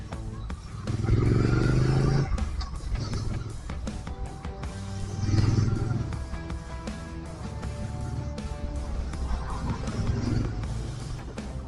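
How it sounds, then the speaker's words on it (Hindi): A Triumph Speed Twin 900 motorcycle's throttle being blipped, with a couple of loud, rising engine revs standing out over a lower idle, recorded close by with some background clatter. "एंड इसकी जो थ्रॉटल की आवाज है ना गाइस"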